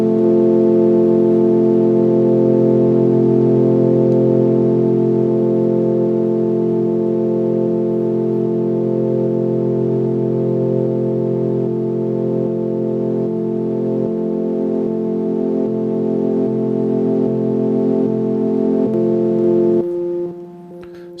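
A steady, layered 2002 MicroKorg synth pad drone holding one chord for about twenty seconds, loud and unchanging, then cutting off abruptly near the end.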